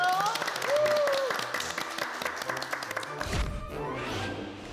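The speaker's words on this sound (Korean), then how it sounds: "우리 모두 박수 한번 보낼까요?" An audience claps steadily in a dense patter of applause, with a voice and a few pitched tones sounding over it.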